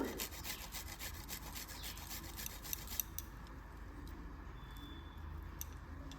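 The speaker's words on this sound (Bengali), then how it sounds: "এর ভেতরে আমি 2-3 কোয়া রসুনকে আমি কুড়ে নেব।" Garlic cloves rubbed against a grater for a prawn dish make a quiet, rapid scraping rasp, steady strokes at first that fade softer after a few seconds, close and faint, without talk.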